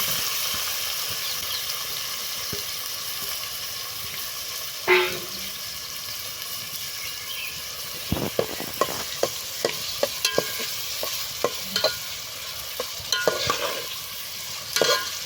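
Onions sizzle and fry in a pan with asafoetida and curry leaves for Kolhapuri misal cooked over a wood-fired stove, a steady hiss punctuated by sharp clicks and clatters of stirring, with no voices.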